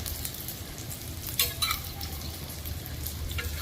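Pomfret fish fry masala is stirred in a hot pan: a steady close sizzle runs throughout, with a few scraping strokes and light metallic clinks partway through.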